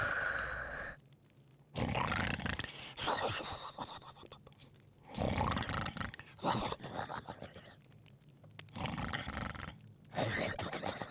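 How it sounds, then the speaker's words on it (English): The monster Dagon snores in Bravely Second, each loud, rough, growling breath lasting a couple of seconds, then a short quiet gap, repeating in a slow steady rhythm. "Listen to that Dagon snore."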